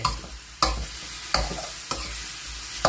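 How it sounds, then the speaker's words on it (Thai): Pork stir-fried in a pan over high heat gives a loud continuous sizzle, punctuated by four hard scraping strokes of the spatula as it is stirred. "ก็คั่วไปเรื่อยๆครับ คนไปเรื่อย ๆ จนกว่ามันจะได้ที่นะครับเร่งไฟแรงตอนนี้"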